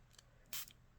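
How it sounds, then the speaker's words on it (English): A handheld water spritzer sprays a mist onto a paper butterfly for a card craft. One sharp, hissy puff comes close to the mic and is brief, with faint softer clicks and taps before it. "Water spritzer. We're going to go ahead and just spray"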